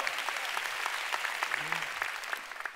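Steady, lively clapping from a church congregation fills the room, many hands at once. A short vocal sound rises briefly under the applause before it begins to thin toward the end.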